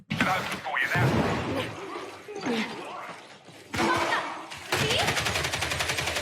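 Gunfire in the video game Darktide comes in dense rapid bursts with a steady automatic rhythm near the end, mixed with other loud in-game noise and breaks between volleys.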